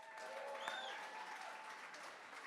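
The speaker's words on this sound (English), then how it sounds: "give the Mona Magicians one more big round of applause" Applause for a group of magicians at a charity art auction, a faint, soft patter of clapping from a modest audience with a few whistles or cheers over it, brief and fairly distant.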